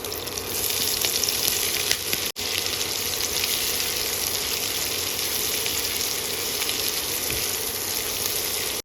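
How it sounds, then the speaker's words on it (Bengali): Chopped onion and slit green chilli frying in a pan, giving a loud, continuous oily sizzle close by, broken once by a brief dropout, with faint stirring underneath and no talking. "হালকা একটু নাড়াচাড়া করেই দিয়ে দেবো পেঁয়াজ কুচি এবার দিয়ে দেবো গোটা একটা পেঁয়াজ কুচি"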